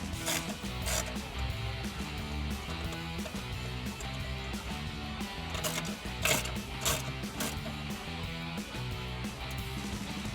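A ratchet on a long extension with a universal joint and 10mm socket turns a bolt beneath the intake tube of a 1994-1998 Mustang V6, giving a steady run of quick clicking under continuous workshop clatter, close to the microphone.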